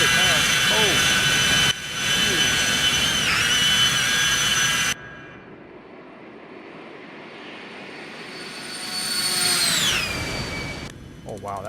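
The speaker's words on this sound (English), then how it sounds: "that flyby sound is actually really good" A business jet in a Citation X flight simulator roars loud and steady, cuts off abruptly, then a flyby swells with a falling whine as it passes close and fades.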